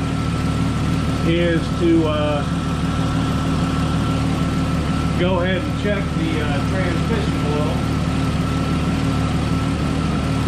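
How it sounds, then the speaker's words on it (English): A 1998 Jeep Cherokee XJ with the 4.0 engine idles steadily with a low, continuous hum, close and loud, while someone talks over it. "you need to check it idling with the engine warmed up and the transmission warmed up"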